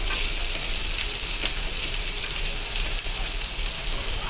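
Chopped garlic and onion sizzle and crackle steadily in hot cooking oil in a pan, a dense, even frying hiss that holds throughout with no talking.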